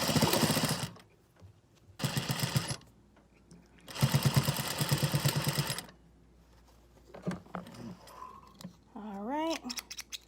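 Folded binding on a washable, reusable insulation gown made from bed sheets is stitched by a sewing machine in three short loud bursts, with a voice talking afterward in the pauses.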